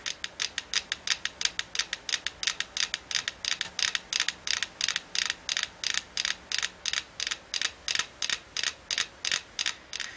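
Several wooden metronomes coupled on a board over rotating cylinders, ticking in a steady fast rhythm of sharp clicks that blur slightly as they fall into sync, close and clear.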